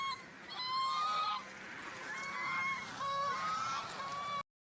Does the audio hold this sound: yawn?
no